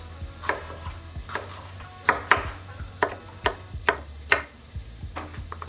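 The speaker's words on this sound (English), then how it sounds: "My fish is cooking behind me." Grouper fries in a pan with a low, steady sizzle, while a knife dices yellow onion and red bell pepper nearby in a run of sharp, regular chops. No one speaks.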